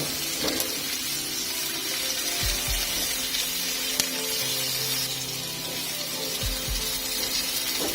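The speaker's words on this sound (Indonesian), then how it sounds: "bawang merah, cabai rawit dan jahe. Kita tumis sampai semuanya" Garlic, shallots, bird's eye chili and ginger sautéing in hot oil for a water spinach noodle dish, a continuous hissing sizzle with a few low knocks of a utensil against the pan.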